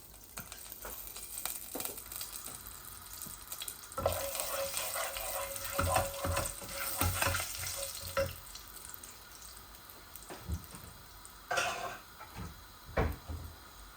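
Cumin seeds, puffed rice and bay leaf frying in hot oil, a steady crackling sizzle throughout with a few sharper clinks and stirring clatters standing out near the middle and end.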